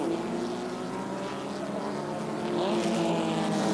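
A Formula E1300 single-seater race car, 1986, roars at about 7500 rpm on the Sachsenring circuit: a steady, loud engine drone that swells slightly near the end, with no talk.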